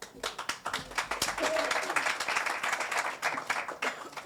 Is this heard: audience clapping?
yes